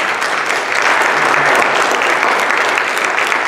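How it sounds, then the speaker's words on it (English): A church congregation applauds its ushers and greeters, a dense, steady wash of many hands clapping at close range that fills the room from start to finish without pause. "everybody give them a round of applause"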